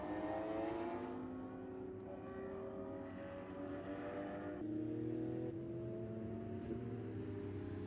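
Porsche GT3 Cup race cars roll out of the pit lane at Spring Mountain, a steady engine drone with layered tones that shifts as the cars pass, moderately distant and continuous, with no talking.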